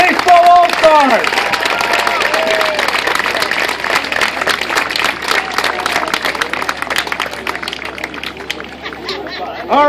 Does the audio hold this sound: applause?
yes